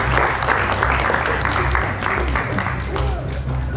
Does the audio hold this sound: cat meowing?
no